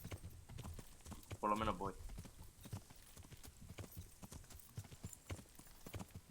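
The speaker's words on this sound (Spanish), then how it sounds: "A este caballo la verdad es que muy rápido tampoco va, pero bueno, más rápido que andando." Horse hooves clip-clop in a steady, fast rhythm as a horse is ridden in the video game Kingdom Come: Deliverance, moderately close and clear, with someone briefly speaking over the hoofbeats.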